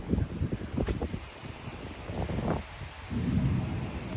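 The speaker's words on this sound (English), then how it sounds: "There's the thunder." Thunder rumbles low and rolling through a strong thunderstorm with 30 mph wind gusts in Frisco, Texas, under steady rain and wind noise buffeting the microphone, loud and close.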